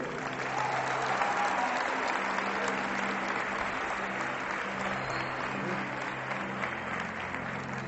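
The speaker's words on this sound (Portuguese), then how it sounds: "vamos dar uma salva de palmas para a vida dele?" A church congregation gives a sustained round of applause for a man, a dense, steady wash of clapping that fills the room evenly from start to finish.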